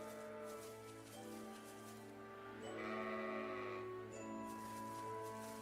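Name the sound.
sheep bleating in video game Trails of Cold Steel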